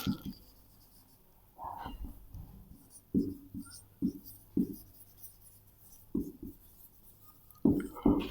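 Chalk or marker strokes on a classroom board as a grammar rule is written, a series of short scratchy bursts with pauses between, close and moderately loud, no talk.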